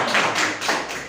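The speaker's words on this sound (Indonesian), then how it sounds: "Tepuk tangan untuk" A classroom audience gives a brief burst of hand clapping, close and fairly loud, with a few distinct claps running together over about a second and no voices over it.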